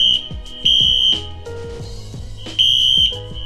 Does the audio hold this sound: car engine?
no